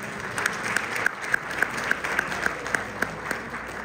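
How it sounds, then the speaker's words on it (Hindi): Enthusiastic audience applause at a UP Association community gathering in Chicago, a steady roll of many hands clapping with sharper claps popping out every few tenths of a second, sustained and fairly close for several seconds. "तो एक बार फिर से जोरदार ताली बजाएं"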